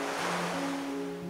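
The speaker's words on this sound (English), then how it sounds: "ocean sounds" Ocean waves wash in a soft, steady surf over a gentle sustained musical tone, brief and fairly quiet, with no voices.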